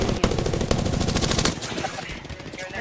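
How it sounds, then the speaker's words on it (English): Rapid automatic gunfire in a video game, a dense burst of close, loud shots in quick rhythm that breaks off about halfway and gives way to scattered, quieter noise. "Getting shot at."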